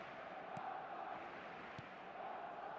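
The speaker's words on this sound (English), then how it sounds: "the crowd level has gone up a notch or 10" A stadium crowd cheers in the eFootball video game. The roar is faint and steady, with a couple of brief sharp accents rising out of the continuous wash of crowd noise.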